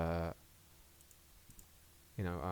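A computer mouse clicks quietly twice in quick succession while someone edits text in After Effects, a faint close click set in a pause between stretches of speech.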